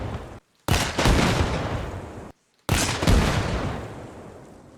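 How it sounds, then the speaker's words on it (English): Two heavy RPG rocket impacts on an LAV-25 armored vehicle in the video game Arma Reforger, each a loud sudden boom that rumbles and decays over a second or more, separated by brief silence. "So around 5 RPG shots to the upper half where the main gun is."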